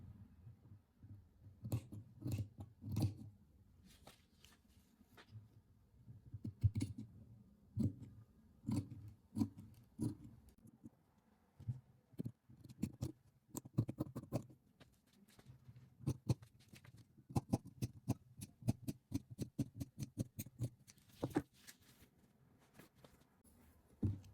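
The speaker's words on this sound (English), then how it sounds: "this is just the way that I love cutting scuba fabric when I'm cutting facing" Scissors cut through scuba fabric for dress facing pieces, producing quiet irregular snips and crisp clicks over a low rustle of handled fabric, close and faint, with bursts of rapid cutting and short pauses.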